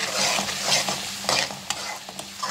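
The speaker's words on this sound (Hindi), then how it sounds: "तो हम अच्छे से भून लेते हैं।" Okra masala sizzles and fries in a pan while being stirred, with bright crackling and scraping strokes and a few sharp clicks of the utensil. Close and fairly quiet, with no voices.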